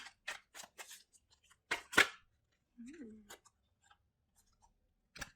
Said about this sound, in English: Just going to shuffle a few more times on camera for good measure.